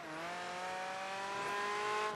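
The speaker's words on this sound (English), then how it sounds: "I really do like that flutter I keep hearing" Steady engine drone from a Ferrari F50 racing car in Project Gotham Racing 3, a smooth sustained note with a subtle flutter that rises slightly near the end, loud and alone.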